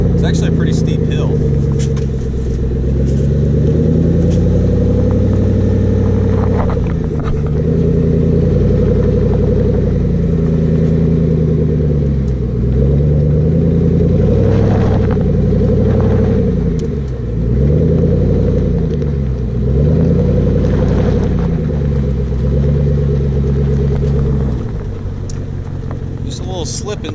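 An off-road truck on 22x12 wheels with 33-inch stretch tires climbs a steep chert hill, its engine a loud, close, steady rumble that rises and falls with throttle as people talk over it.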